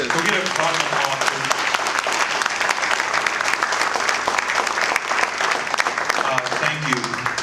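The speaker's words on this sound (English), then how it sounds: "Go get a round of applause." An indoor audience at a reunion event bursts into a sustained, dense round of applause, steady and loud throughout with a few whoops mixed in.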